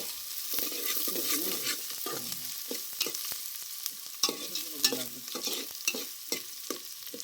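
Onion fries in hot oil for a jackfruit vegetable dish, a soft, fairly faint sizzle broken by repeated spatula scrapes and taps against the pan.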